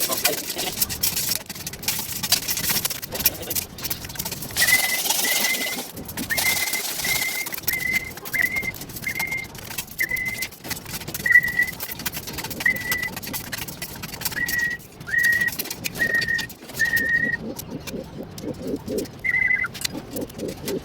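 Pigeons in a loft cooing repeatedly at a steady pace, soft close calls over background rustling and faint mechanical hum, with no talking.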